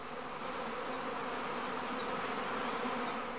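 A dense, steady hum of honey bees from an after-swarm hangs around straw skep hives at a heathland apiary, a continuous close buzz with no break and no voices.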